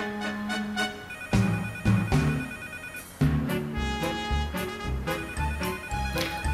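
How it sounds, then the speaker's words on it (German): An old-style mobile phone rings in the Leisure Suit Larry video game, a repeating electronic ring tone layered over bright game music, loud and continuous with no talking. "da bimmelt ein Handy, ein äh, Steinzeit-Handy sozusagen"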